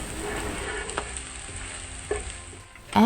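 Minced garlic sizzles steadily as it is stir-fried in a hot wok for seafood hor fun, with a few faint spatula scrapes and taps breaking through the constant frying hiss.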